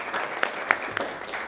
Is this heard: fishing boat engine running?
no